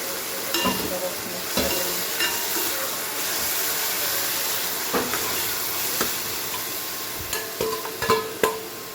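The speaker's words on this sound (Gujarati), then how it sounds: "રાઈ થઈ જાય એટલે જીરું, સેજ હિંગ અને ટામેટા એડ કરી લઈએ." Mustard seeds, cumin, asafoetida and tomatoes sizzle in hot oil in a pan, a steady hissing fry punctuated by sharp pops and clinks of stirring.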